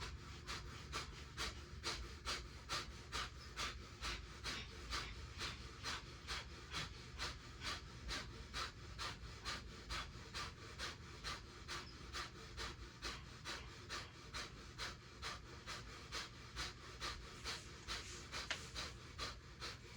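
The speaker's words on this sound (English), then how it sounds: "It's like a dog panting from out of your nose." Breath of fire yoga breathing: rapid, forceful nasal panting pushed from the diaphragm, a steady run of short sharp exhales at about two per second, close but quiet, with no talking.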